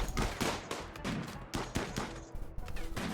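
Musket gunshots in the Rimworld video game, a rapid series of sharp, punchy cracks in uneven bursts with booming low thuds, loud and close.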